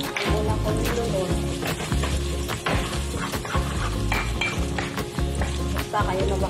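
Garlic frying in a pan, with steady close sizzling and repeated clinks and scrapes of a utensil stirring against the metal, loud throughout with faint background noise.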